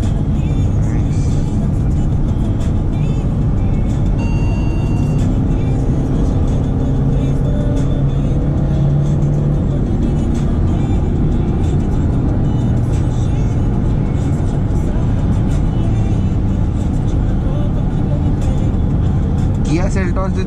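Kia Carnival limousine (2020) driving steadily under way, a continuous low engine and road drone with smooth gear changes that barely break the hum, people talking inside the cabin.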